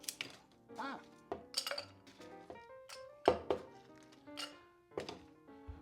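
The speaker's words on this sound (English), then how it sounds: "Let's get some really cool ice cubes into a tall glass." Ice cubes clink and knock as they drop into a tall glass for a Mexican brandy cocktail in Mexico City, a series of sharp, bright clinks and thuds spread over several seconds.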